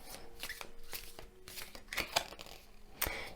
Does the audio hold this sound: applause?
no